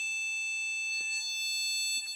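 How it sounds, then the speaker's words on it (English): A vintage PC motherboard with a fault sounds its beep code as one continuous high-pitched tone, steady and clear at close range, with faint clicks of handling underneath. "And yeah, it just beeps. Solid beep."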